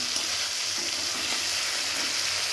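Pointed gourd and fish sauté for a curry in a steady, even sizzle of hot oil that carries on without pause, with no talking.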